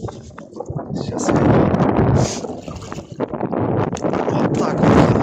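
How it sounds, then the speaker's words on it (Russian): Strong wind buffets the microphone during a duck hunt in snow and drizzle, loud gusty rumbling that surges and dips with brief crackling bursts throughout. "Ужасный ветер."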